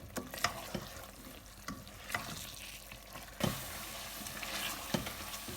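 A spoon scrapes and stirs a thick onion and tomato masala frying in oil in a pan, with steady sizzling and repeated clacks against the pan.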